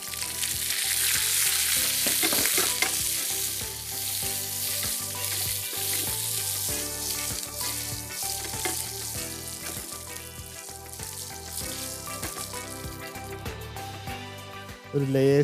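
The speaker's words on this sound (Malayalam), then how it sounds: "എണ്ണ ചൂടായി നമ്മളിതേ കടുകിട്ട് പൊട്ടിക്കുകയാണ്" Mustard seeds pop and crackle in hot oil in a busy, steady frying sizzle, with sharp little bursts scattered through the dense hiss, close and fairly loud throughout.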